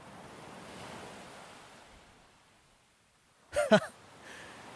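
Ocean waves and surf wash in a steady low roar with wind across the microphone, fading quieter before a short burst of louder noise near the end.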